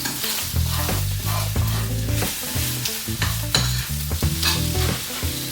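Meat sizzles and crackles steadily in a hot pan while it is stirred, with scraping and clattering bursts over a continuous loud fry and no voices.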